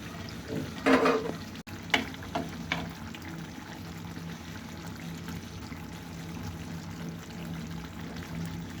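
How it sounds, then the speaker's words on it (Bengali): Bitter gourd pieces tipped into a pan of frying potatoes, with a brief rattling pour and a few clatters near the start, then a steady low sizzle for the rest of the clip and no voices. "এখন আমি করলাগুলি অ্যাড করে দিব।"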